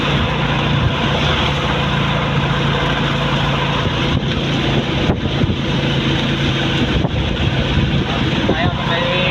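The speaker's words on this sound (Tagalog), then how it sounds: "Lakas ang hangin. May bagyo na dito sa Batangas" Strong typhoon wind in Batangas, Philippines, roars continuously against the microphone, a loud, steady rushing with occasional gusts and buffeting.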